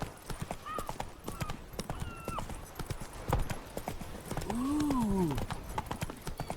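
Roach, Geralt's horse in The Witcher 3, gallops with rapid rhythmic hoofbeats, then neighs loudly near the end; a voice briefly exclaims over the galloping.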